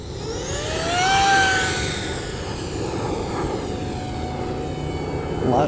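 A HobbyKing F-18 Super Hornet foam model jet with a 50 mm twelve-blade electric ducted fan on a 4S battery whines loudly overhead, its pitch sweeping as it passes, then holds a steady airy roar.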